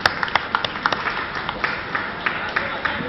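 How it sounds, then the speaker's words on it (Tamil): Applause from a conference audience at an astrology association's awards ceremony, with scattered claps peaking over a steady background murmur. "பலத்த கைத்தட்டம்"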